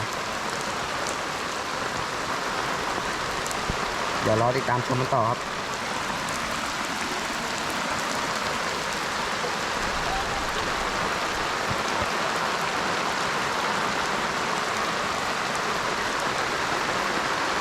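Heavy rain pouring down at a fishing pond, a loud continuous hiss of drops on water and surfaces throughout, with someone briefly speaking over it.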